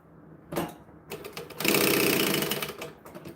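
A sewing machine bastes the layers of a goblin wallet during a live sewing session: a brief stitching burst, a pause, then a loud, steady run of rapid needle clatter close by.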